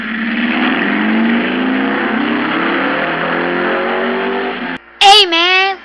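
A toy Lego car's engine drones steadily with a rising, slightly wavering motor pitch for several seconds, then cuts off, followed by a short burst of a higher revving whine as it drives off.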